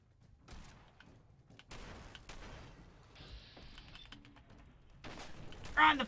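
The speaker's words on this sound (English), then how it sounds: "Right, and then the shotgun." Shotgun blasts in Fallout 4, a few scattered booming shots spaced across several seconds, fairly faint and mixed with other game noise and a louder burst near the end.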